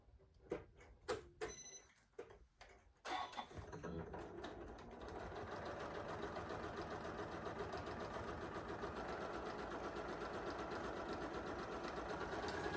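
Sewing machine running steadily as it stitches a quarter-inch seam on fabric for flying geese quilt blocks, a continuous whirring drone after a few brief start-up clicks and handling sounds.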